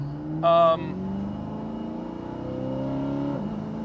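Twin-turbo C8 Corvette, a roughly 900 hp build, revving under half throttle with a smooth rising engine tone, close and fairly loud, with a brief voice near the start.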